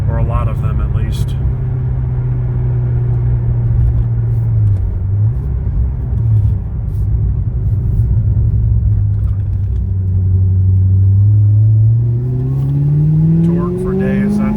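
Corvette ZR1 engine pulling up a hill at part throttle, a loud, steady low rumble that swells and rises in pitch toward the end as the revs climb, with no one talking.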